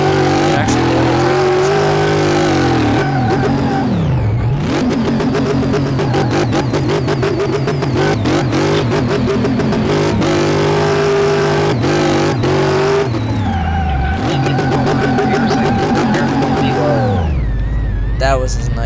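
A car revs hard and drifts in Car Mechanic Simulator, the engine note rising and dropping through repeated high-revving sweeps and gear changes, with a voice talking over it.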